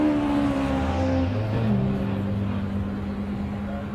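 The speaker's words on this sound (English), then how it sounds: "There goes the Peugeot 106 though." A Peugeot 106 race car at Mallory Park during a Quick60 Challenge, its engine droning loudly with a clear pitch shift as it drives past, then holding a steady tone.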